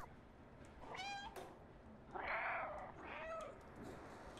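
A cat meows a few times, close and fairly quiet, with one longer, drawn-out meow in the middle; no talking.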